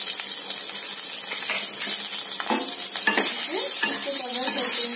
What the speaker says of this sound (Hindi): उसके बाद फ्राई करने के टाइम में थोड़ा सा हल्दी डाल देंगे, और थोड़ा सा सॉल्ट